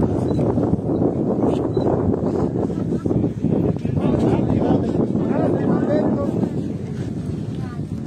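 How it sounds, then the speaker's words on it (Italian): Strong wind by the Strait of Messina buffets the microphone in a loud, continuous roar that fluctuates slightly but never stops, with talking underneath. "un po' di vento però"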